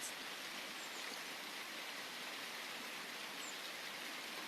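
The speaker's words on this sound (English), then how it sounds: "We got that rain sound again." Steady, even hiss of rain falling, a dense wash of drops with no pauses and no voices.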